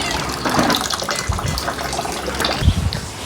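Water pours steadily from a newly built tap, a continuous splashing rush at close range with a few louder gushes, and no talking over it.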